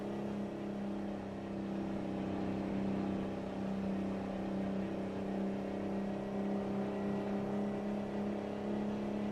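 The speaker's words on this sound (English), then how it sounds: "This engine, like I said, doesn't have a ton of power, but man, it sounds good." Mack R truck engine in American Truck Simulator labouring uphill under a lumber load, a steady deep droning growl with strong low tonal hum, held at a constant level throughout, no talking.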